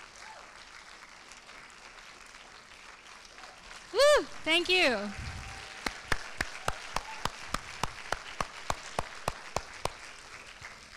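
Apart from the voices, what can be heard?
audience applause for the host committee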